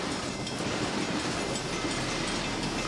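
A train rushes past on a railway line nearby, a loud, steady roar of wheels and rail noise filling the whole stretch without pause.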